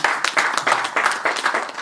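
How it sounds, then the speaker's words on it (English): Applause from a book launch audience, a brief burst of clapping, fairly loud and close, with a pulsing uneven rhythm for under two seconds. "A round of applause for me,"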